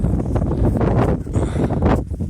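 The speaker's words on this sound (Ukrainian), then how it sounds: "Вітер. Вітер, дуже вітер." Strong wind gusts buffet the microphone in loud, rumbling blasts at an outdoor hazelnut planting site, rising and falling over a couple of seconds.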